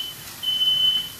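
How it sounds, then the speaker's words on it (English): A single high-pitched electronic beep from a kitchen smoke alarm, set off by cooking, sounds for about half a second over quiet room tone. "I have a feeling my smoke detector is going to go off here"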